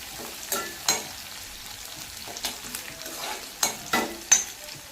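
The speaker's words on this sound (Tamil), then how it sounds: "நல்லா வதக்கிக்கலாங்க ஒரு ரெண்டு நிமிஷம் வதக்கிக்கலாம்" Ginger, garlic and green chilies sauté in a pan for a spring onion kuzhambu, a soft constant sizzle broken by several crisp spoon scrapes and taps at irregular intervals, no speech.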